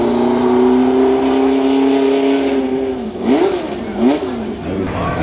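A 1.5 liter V8 Ferrari IndyCar, open-wheel, driving past at a concours event, a loud tonal engine drone that rises and falls as it revs by close, with faint background chatter.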